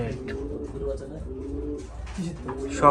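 Fancy pigeons coo softly and repeatedly, close by, with low rolling calls under someone talking over them.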